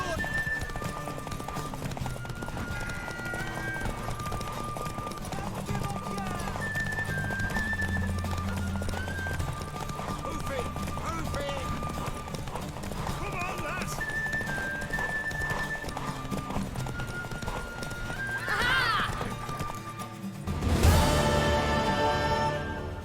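A mare in The Witcher 3 video game, heard as steady clip-clopping hooves under continuous background sound, with a brief whinny-like burst near the end.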